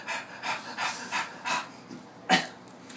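A storyteller imitates a charging demon's heavy panting with his voice: a run of rhythmic, breathy huffs, about eight in quick succession, close and fairly soft, ending in one sharper exhale.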